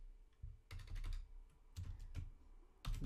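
Keys clatter on a computer keyboard in short bursts of quick taps with brief pauses, close and fairly quiet, with no talking.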